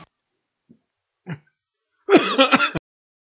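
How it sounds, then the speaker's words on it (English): A few breathy coughs sound close and dry: two faint isolated puffs, then a rougher cluster of raspy, throaty coughs in quick succession before it goes quiet. "Them some breathy coughs."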